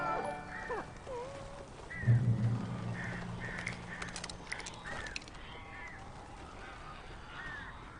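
Crows caw repeatedly inside a dim room in the video game Alan Wake, harsh calls scattered over several seconds above a low droning ambience and a brief deeper thump, with no talking.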